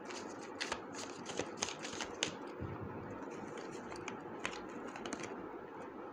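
Tarot cards are shuffled and drawn in soft, close riffling and flicking bursts with small snaps of card edges. The sound is quiet and continuous, with no talking.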